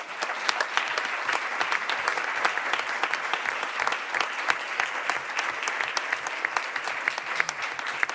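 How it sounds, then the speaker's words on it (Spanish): A crowd at a Barcelona political assembly applauds steadily for several seconds, the many hands giving a dense, sustained patter of claps at moderate loudness. "Esta gente merecen un gran aplauso."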